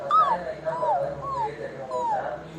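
A German shepherd puppy found loose by a road makes high, sliding whimpers, four drawn-out whines in a row, close by, with faint voices in the background.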